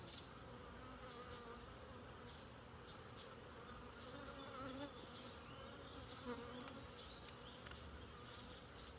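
Agitated honeybees swarm from an opened backyard hive in a dense, continuous buzzing drone, faint and steady, with individual bees passing close now and then.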